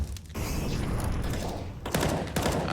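Bursts of gunfire in the tactical shooter Counter-Strike during an ESL Pro League match on the Ancient map, with dense overlapping shots and rattling volleys that fill the clip at steady loudness, breaking into fresh bursts near the end.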